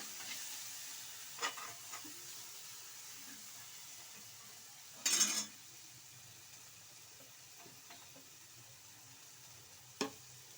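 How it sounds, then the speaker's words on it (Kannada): Chili powder fries in oil as a steady, faint sizzle, with a few light spoon scrapes and one louder clatter partway through. "ಒಂದು ಸ್ಪೂನಷ್ಟು ಖಾರದ ಪುಡಿ ಹಾಕೊಳ್ಳಿ ಹಾಕೊಂಡು ಎಣ್ಣೆಯಲ್ಲಿ ಸ್ವಲ್ಪ ಫ್ರೈ ಮಾಡ್ಕೊಳ್ಳಿ"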